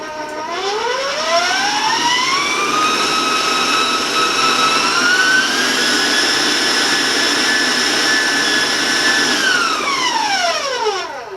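An electric mixer creams butter, sugar and vanilla for double chocolate cookies; its motor whine climbs as it spins up, holds a loud steady hum for several seconds, then winds down at the end, with no talking.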